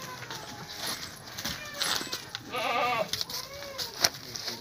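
A pregnant goat, three months along and offered for sale in Pakistan, gives a clear wavering bleat partway through, with faint rustling and low background voices around it.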